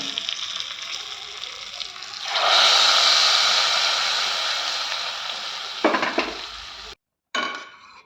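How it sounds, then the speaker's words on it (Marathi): Hot tempering of curry leaves and chillies poured over Alphonso mango curry gives a sudden loud sizzle, starting about two seconds in and slowly fading. A couple of brief clatters follow, then a short silence and a final burst of sizzling. "आता हे सगळं मिक्स करून याच्यावरती टाकून गरम आहे ना"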